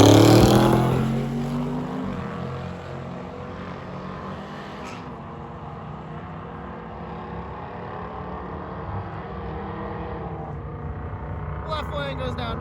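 A nitrous-equipped GMC van launches in a drag race at night, loud engine roar fading into a steady distant drone down the strip, with crowd noise and voices mixed in and a brief rattle near the end.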